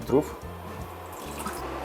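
200 ml of water pours steadily into a pot for cooking buckwheat groats, a gurgling, splashing trickle close by, while a voice briefly speaks at the start.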